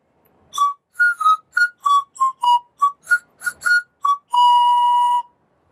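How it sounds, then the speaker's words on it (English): Wooden panpipes modelled on the Jorvik find are blown in a series of about twelve short, clear breathy notes, ending on one longer held tone. The playing is close and alone, with no voices. "bit of wood with some holes drilled or burnt into it, and you just blow on the edge of it to get notes out of it"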